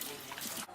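Tap water runs steadily onto a makeup sponge, a beauty blender stained with lipstick and foundation, in a short close burst of broadband splashing that cuts off near the end.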